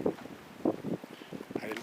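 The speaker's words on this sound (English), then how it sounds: "the wind is a little crazy today" Strong outdoor wind buffets the microphone in uneven gusts, with a low rumble and broadband roar that rise and fall throughout the short stretch.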